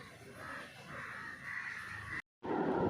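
Crows caw repeatedly among other birds calling around a home garden with young aubergine seedlings, the calls moderately near over steady outdoor ambience, with a brief dropout near the end.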